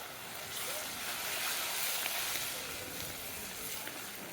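Four green chillies fry in oil for a village-style fish curry, making a soft, even, fairly quiet sizzling hiss that holds steady throughout.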